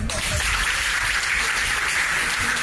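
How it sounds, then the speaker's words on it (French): Crowd applause at the close of ZEvent 2024, a charity streaming event, dense and continuous clapping filling the space, with some voices mixed in. "vous pouvez nous applaudir"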